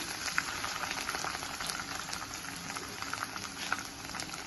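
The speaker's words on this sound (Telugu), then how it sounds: "కచ్చపచ్చగా నలపట్టుకున్న చిన్నెల్లిపాయ రెబ్బలు కొంచెం ఫ్రై చేసుకున్నాయి" Crushed small shallots frying in a pan, a continuous close bubbling sizzle with small pops and crackles scattered through, steady and moderately loud with no voices.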